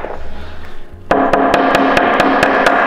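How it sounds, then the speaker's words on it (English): A run of sharp, evenly spaced taps from a small toffee hammer tapping grommets into flat-pack furniture, about eight quick strikes in steady rhythm, close and clear. "I'm gonna give it a little tap."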